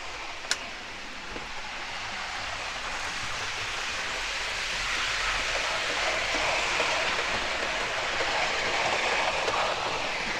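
A Hornby model of the APT Advanced Passenger Train runs around its track with a steady, close rumbling whir and faint rhythmic clatter that swells slightly as it goes, after a single sharp click near the start.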